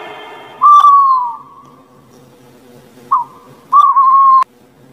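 An owl hoots in clear, tonal calls: one long hoot, a short one, then a longer one after a pause. The calls are close and loud with nothing else behind them.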